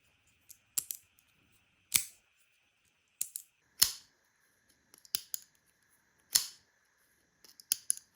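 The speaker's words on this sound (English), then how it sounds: "I can also hear a big difference in my knife's action" A sequence of sharp metallic clicks and snaps, several spaced apart over a few seconds, close and crisp against near silence, like a blade flicking open and shut.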